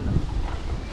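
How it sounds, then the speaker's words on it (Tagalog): Sea breeze blowing at a seaside spot in Mindanao near a boat racing event, heard as steady low wind rumble buffeting the microphone throughout, with no clear voices. "Sarap ng hangin dito kasi nasa malapit sa dagat."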